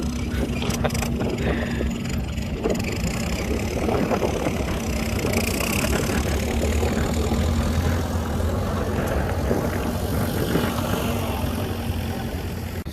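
A turbocharged farm tractor engine idles steadily throughout, a continuous low, even rumble heard up close with no speech over it.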